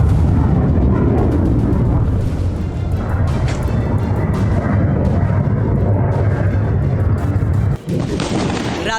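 Booming blasts from a missile strike on Tel Aviv roll out as continuous heavy, distant rumbling with crackling bursts and thuds, loud and sustained, with a sharp break near the end before the din resumes.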